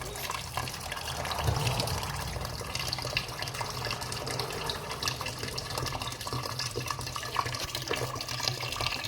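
Water pours steadily into rice in a rice cooker pot, a continuous close splashing trickle that carries on without pause; no talking.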